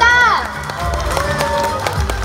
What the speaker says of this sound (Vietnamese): Xin một tràng pháo tay chúc mừng 9 bạn của chúng ta.